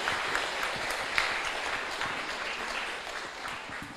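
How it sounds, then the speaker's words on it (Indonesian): Audience applause for a doctor at a Dhamma talk, a soft, even patter of clapping that holds steadily throughout and fades slightly toward the end. "Silahkan beri tepuk tangan ke Pak Dokter ya."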